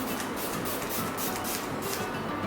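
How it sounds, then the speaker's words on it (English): Swiss Beauty Makeup Fixer setting spray with aloe vera and vitamin E mists onto a face in a long steady hiss, close and fairly soft, with no talking. "I'm going to set the entire makeup in using the makeup setting spray"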